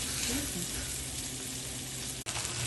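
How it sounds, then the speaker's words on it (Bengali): Prawns fry in a pan with onion, producing a dense, close, even sizzle that runs throughout, broken by one brief sharp click near the end. "মাছটা ভেজে নেবো"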